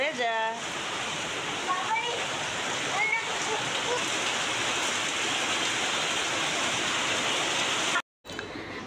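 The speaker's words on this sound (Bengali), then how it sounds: "বাহিরে এত বেশি বৃষ্টি হচ্ছে" Heavy rain pours outside on a day of nonstop rainfall, a loud, steady, close wash of falling water with a brief break near the end; a faint voice is heard at the start.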